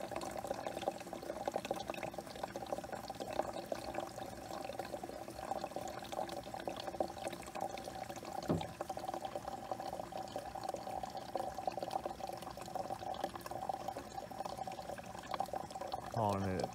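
Water pours from a hydram pipe into a gallon pitcher, a faint, continuous trickle running throughout, with a brief gurgling splash near the end and quiet talk in places.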